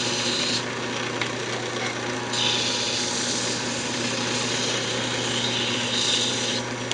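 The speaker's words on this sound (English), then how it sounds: "And I do slow the lathe speed down when I sand." A wooden wand is sanded on a lathe running at reduced speed, giving a continuous rubbing rasp over a steady motor hum, close and even, with a few slight swells in intensity.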